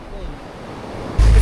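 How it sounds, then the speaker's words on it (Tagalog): Strong sea waves and wind during a boat crossing to Puerto Galera make a loud, broad wash of noise, with a sudden heavy rumble of wind or spray buffeting the microphone near the end. "Lakas ng alon, hindi ko na ng video."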